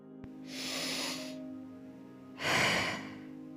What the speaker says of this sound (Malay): Tarik nafas dan hembus nafas.